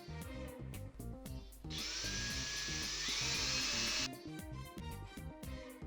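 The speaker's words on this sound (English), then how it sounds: "Try not to drill into the base." A tiny drill bit drilling into a Matchbox Ford Escort Mk2 RS2000 model car spins up with a shrill whine for a few seconds, pitch shifting slightly, then cuts off amid steady rhythmic background clatter.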